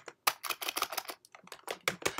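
Quick clicking keystrokes tap out a short password on a computer keyboard, a brisk irregular run of close, fairly quiet key presses.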